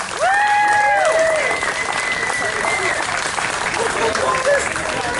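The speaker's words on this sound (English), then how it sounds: "Let's give all of our supporters and funders a big round of applause." Outdoor rally crowd against a mountain pipeline giving loud, sustained applause, with whoops and whistles on top and voices mixed in as the clapping carries on.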